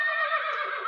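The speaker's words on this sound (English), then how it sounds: "It's going to play a horrible sound of a horse." A loud horse neighing, a single shrill whinny lasting under a second, played back as an embedded audio sample with no other sounds.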